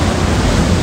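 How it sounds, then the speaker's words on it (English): Loud ocean surf crashes continuously, a dense, steady roar of breaking waves filling the whole clip with no voices. "these waves are loud."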